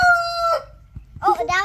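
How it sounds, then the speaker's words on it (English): A big farm rooster crows loudly and close by in one long drawn-out call, followed by a short pause and then further clucking and squawking from the flock. "Oh, that was the big rooster."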